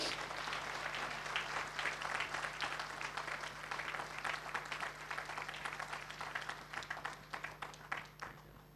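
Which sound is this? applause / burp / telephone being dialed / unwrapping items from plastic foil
applause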